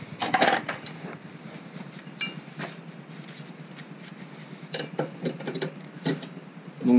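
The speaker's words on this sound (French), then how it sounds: "je viens desserrer le contre-écrou" Wrench clicks loosening the lock nut on adjustable Maxpeedingrods coilover suspension fitted to a Toyota Supra; a run of sharp ratcheting ticks and metallic clicks repeats in clusters close to the microphone, with no talk.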